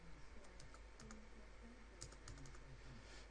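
Quiet, close typing on a computer keyboard, a quick run of light key clicks in two short bursts with a low background hum.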